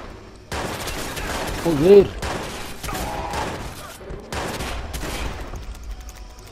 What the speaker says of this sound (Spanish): ¿pero cuántos tiros hay que pegarle?